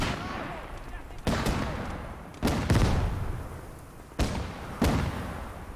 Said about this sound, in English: so we'll call out a few grenades